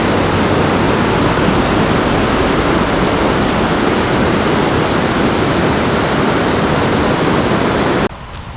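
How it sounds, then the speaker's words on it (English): Water rushes steadily through a gorge near waterfalls as a loud, constant roar that fills the scene and cuts off abruptly near the end. "You can hear some water."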